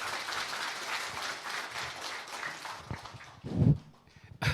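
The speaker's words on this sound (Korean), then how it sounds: "큰 박수 부탁드리겠습니다" A lecture audience at a humanities forum applauds to welcome a professor, moderately faint continuous clapping that thins out toward the end, with a few louder thumps.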